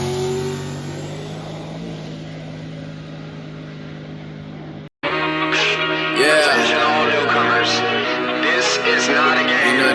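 A turbocharged shop truck with rear-mounted turbos and no nitrous accelerates as the engine drones steadily and builds. After a brief cut, a louder, rising run of engine and turbo noise follows, with a voice talking over it.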